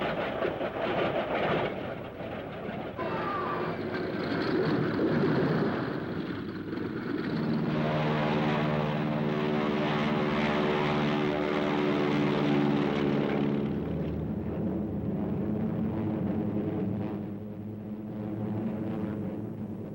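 WWII P-38 Lightning propeller fighter planes fly overhead with a steady, loud engine drone that swells in the middle, then eases back, with no voices.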